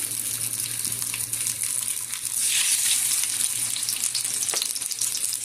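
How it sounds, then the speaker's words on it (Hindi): Marinated chicken fries in hot oil with a constant bright, crackling sizzle and occasional bubbling surges, close and steady, with no talk. "ये गोल्डन ब्राउन होने तक हम इसको इसमें फ्राई करेंगे।"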